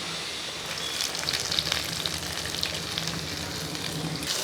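Two large sliced onions and green chillies fry in a pan for a cauliflower and chickpea masala curry, giving a continuous, even sizzle with faint crackles, close and fairly quiet, with no voices.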